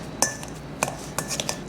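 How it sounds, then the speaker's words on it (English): Boiled potatoes mashed in a pot with a metal potato masher, giving a few sharp, separate clanks and scrapes spaced irregularly over a couple of seconds, close and moderately loud with no talk. "we've got our potatoes finished boiling and I'm just using a potato masher"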